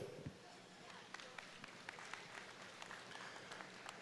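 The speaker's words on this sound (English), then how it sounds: "Let's give these Red Angus breeders a round of applause here in this junior show." Applause at a junior beef cattle show in Regina, Saskatchewan, honoring Red Angus breeders, heard as a steady crowd clapping through a broad arena wash, moderately loud with scattered sharp claps and a faint voice underneath.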